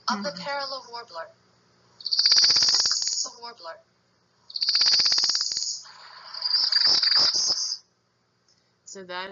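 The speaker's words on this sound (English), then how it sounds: "So that is the song of the parula." Northern parula warbler singing a buzzy, ascending trill that cuts off sharply, about three songs in a row with silent gaps between. Clear and close, with speech at the start and end.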